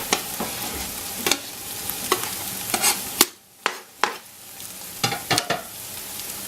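Onions and mushrooms fry in a pan, with a steady sizzle broken by repeated scraping clicks of stirring and a brief quieter moment partway through.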